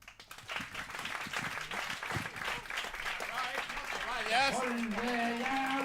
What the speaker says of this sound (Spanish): All right, ese aplauso.